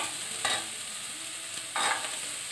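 Chopped onion and carrot stirred in a frying pan, a steady hiss of frying with two brief louder scrapes of the spoon, no voices.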